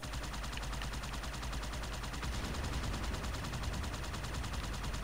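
Continuous rapid gunfire from a first-person shooter video game, a dense steady rattle of repeated shots that keeps going at an even loudness the whole way through, with no voices over it.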